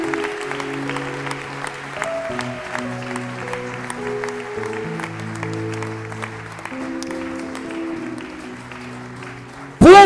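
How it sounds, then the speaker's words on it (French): A church congregation claps and cheers in acclaim of the Lord, with crowd voices and clapping mixed with sustained musical tones, ending in a sudden loud burst at the close. "Non, acclame encore le Seigneur."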